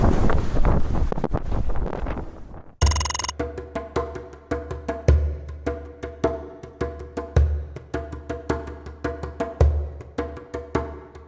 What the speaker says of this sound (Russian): Вымпельный ветер достигает 30 узлов.